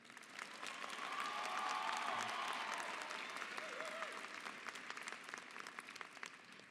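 Audience at a 2017 Mountain View High School graduation ceremony breaks into sustained applause, a dense wash of clapping that builds quickly, peaks, then thins slightly while continuing steadily; a few cheers mix in.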